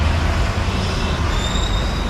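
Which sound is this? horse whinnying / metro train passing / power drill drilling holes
metro train passing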